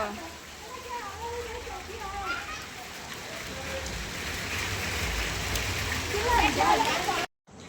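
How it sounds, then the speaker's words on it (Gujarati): Steady rain falls in a constant hiss while a voice speaks over it, the downpour growing louder toward the end before cutting off. "વરસાદ વધારે આવ્યો જો."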